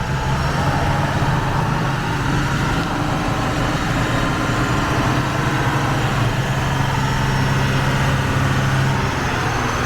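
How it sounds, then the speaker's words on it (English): Diesel engines on a Reading & Northern RDC railcar, #9164 running with three others, give a loud, steady, close rumble that holds without pause. "Oh, check that out, they're revving up the engine."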